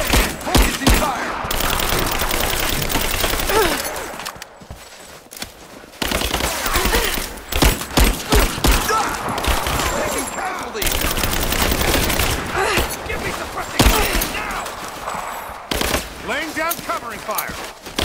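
Heavy gunfire in Rise of the Tomb Raider during a prison-break firefight, loud sustained automatic bursts with short pauses, mixed with voices speaking.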